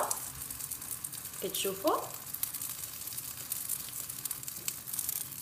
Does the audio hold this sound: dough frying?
yes